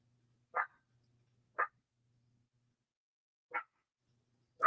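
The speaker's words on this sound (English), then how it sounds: "She's barking at an imaginary thing." A dog barks four times, short sharp barks spaced unevenly across a quiet background.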